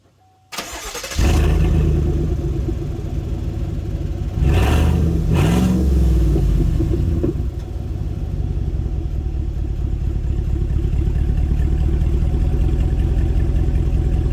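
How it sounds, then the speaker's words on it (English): A 2019 GMC Sierra pickup with no exhaust fitted starts with a loud, raw bark, gives a couple of sharp revs, then settles into a steady, rumbling, close idle. "for those of you that want to know what it sounds like with no exhaust."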